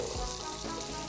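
Minced garlic and cubed onion frying in butter with salami for a corn seafood chowder, a brief, dense, close sizzle that stays steady throughout.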